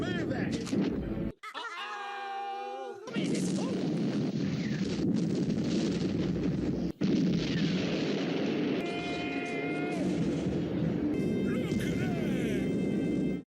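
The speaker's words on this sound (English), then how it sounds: "causes a giant, almost uncontrollable sequence of fire and explosions galore" Fire and explosion effects from a TUGS episode: a dense, continuous roaring rumble of flames and blasts, loud and sustained, broken by a brief quieter stretch with tonal whistling and a couple of sharp cuts.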